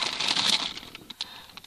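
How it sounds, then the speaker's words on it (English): A crinkly bag of chips being opened, plastic packaging rustling loudly up close, then settling into a few scattered crackles and pops. "It's not really silent if I'm opening the bag of chips."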